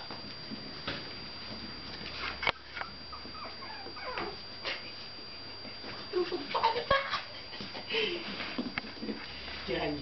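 A two-month-old orange Pomeranian puppy whimpers in short, thin high cries scattered through the clip, close by, with a person speaking softly in between.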